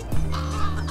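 A crow caws in a video game, a short, rough call with steady tonal layers from the game's sound behind it.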